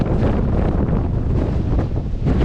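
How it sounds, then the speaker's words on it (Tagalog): Strong wind in Kenting, Taiwan roars and buffets the microphone continuously, a dense, loud rumble with gusty surges throughout and no voices. "Grabe, lakas ng hangin."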